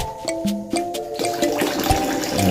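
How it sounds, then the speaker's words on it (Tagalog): A toilet flushes in a campsite shower room, water rushing steadily and close by for a couple of seconds, with no talking over it. "Toilet check."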